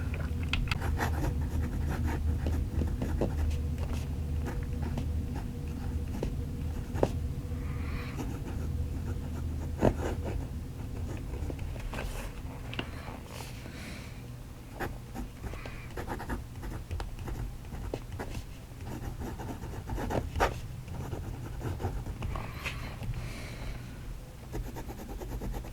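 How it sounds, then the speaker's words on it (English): Jinhao X159 black acrylic fountain pen with a large nib writing Waterman Serenity Blue ink on paper, producing a close, continuous soft scratching with small irregular taps and pauses. "let's put some more Waterman Serenity Blue ink on paper"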